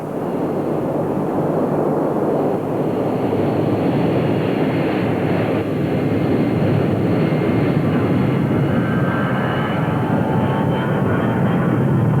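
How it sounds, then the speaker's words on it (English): B-52 bomber engines during the Gulf War, a loud, continuous jet roar with a broad rumbling body that stays steady and unbroken for over twelve seconds, with no voices. "B-52s, the most fearsome bombers the world's known, started hitting targets in Iraq and Kuwait"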